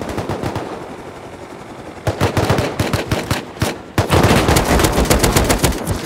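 Rapid automatic gunfire in the survival video game Rust during a fight on an oil rig: dense bursts of loud shots. They start sparse, then come in heavy sustained volleys near the listener, with no talk over them.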